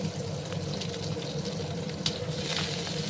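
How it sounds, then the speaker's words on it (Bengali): Chopped onions frying in a pan, a steady, moderately quiet hiss and crackle of sizzling oil that continues without pause, with faint bubbling texture throughout. "তারপরে আমি পেঁয়াজগুলোকে একটু লাল লাল করে ভেজে নেব।"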